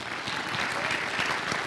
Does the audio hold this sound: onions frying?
no